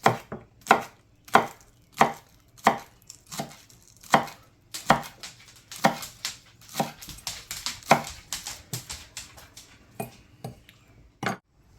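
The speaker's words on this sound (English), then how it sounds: "get them chopped up, divided between the white ends and the greens on the end" A knife chops green onions on a board for soup prep, with about twenty sharp, close, fairly regular cuts, some in quick bursts, and no talking.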